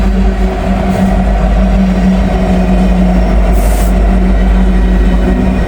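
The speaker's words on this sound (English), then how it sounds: "DPU coming through." A BNSF freight train rolls past with a distributed power unit locomotive mid-train, a loud, close, continuous rumble of engine drone and wheel noise that holds steady throughout.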